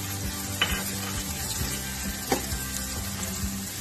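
Peanuts frying in hot oil for sabudana khichdi, a steady sizzle with a few scraping stirs of the spoon against the pan, close and alone.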